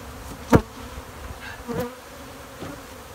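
Honeybees swarming an empty super to rob it, a steady close buzzing with several louder bursts as single bees zip right past.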